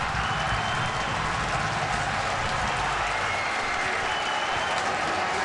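A basketball crowd at a high school game, Campbell Hall at St. Edward, cheers and applauds in a dense, continuous roar that fills the gym without letup.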